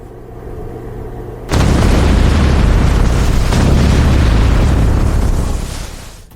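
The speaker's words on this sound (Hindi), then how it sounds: "एक बार जोरदार विस्फोट सुनवाई।" A loud, sudden blast erupts after a quiet hum, followed by several seconds of heavy rumbling roar that slowly fades.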